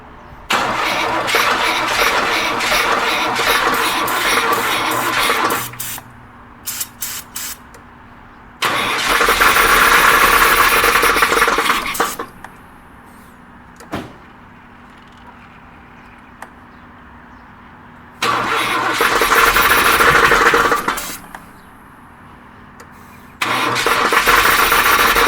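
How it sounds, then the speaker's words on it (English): A car engine that is hard to start cranks in four loud, sustained bursts, with quieter stretches of low rumble between attempts. "When it starts clanking, step on the gas, pump the gas."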